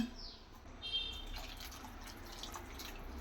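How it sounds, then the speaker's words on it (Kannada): Water poured into a cooking pot holding a spiced mixture in a home kitchen, heard as faint, close trickling and dripping against a quiet background, with no talking. "ಇನ್ನೊಂದು ಸ್ವಲ್ಪ ನೀರು ಹಾಕೋಣ."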